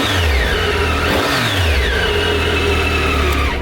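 A 2011 Triumph Tiger 800 motorcycle engine is revved with a blip of throttle, the pitch rising and falling loudly and close, then settling back toward idle.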